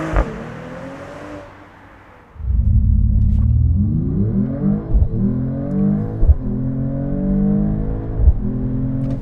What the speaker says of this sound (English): Let's get a launch control going.